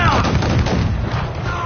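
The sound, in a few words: ship cannon fire in video game Assassin's Creed 4 Black Flag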